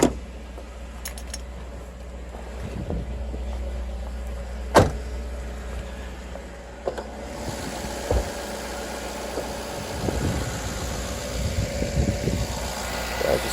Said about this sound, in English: I'm going to drop the window